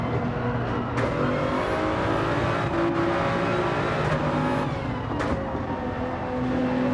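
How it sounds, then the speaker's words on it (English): Race cars in Gran Turismo 7 during a Nations Cup online race, engines droning steadily and loudly throughout with shifting pitch as they brake and accelerate, a few brief transient bursts, no talking. "Trying to brake in the right spots without making any sort of collisions with the car in front."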